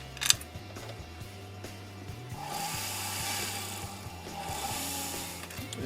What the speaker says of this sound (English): It trims nicely because it's 18 karat gold.